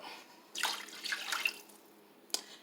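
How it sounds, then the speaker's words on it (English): Three cups of water splash and pour in a few short bursts into a pot nearby, with a brief sharp clink at the end. "I'm going to do 3 cups of"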